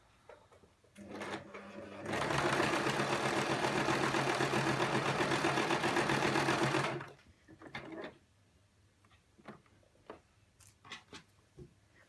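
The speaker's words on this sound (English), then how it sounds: "I'll take 1 stitch forward and then 1 stitch back and remove my pin and start to sew" A sewing machine stitches a wrap skirt in one steady, fast mechanical whir lasting about five seconds, close and loud, with quiet fabric handling and small clicks before and after.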